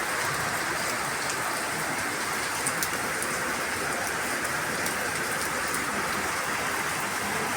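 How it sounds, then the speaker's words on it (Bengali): Heavy monsoon downpour drumming steadily on surfaces, a dense, loud, unbroken roar of rain with scattered louder drops, no voices heard. "দেখো মুষলধারায় বৃষ্টি হয়ে যাচ্ছে।"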